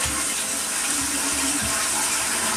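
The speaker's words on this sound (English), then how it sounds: "I'm just going to flush and wash my hands" A toilet flushes while a bathroom tap runs for hand washing, a loud, steady rush of water filling the space with gurgling swirls underneath, close and continuous with no talk.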